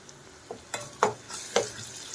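Ginger garlic paste fries in a pan for kalia biryani, a soft sizzle broken by a few scraping strokes of a spoon at an uneven pace, close by.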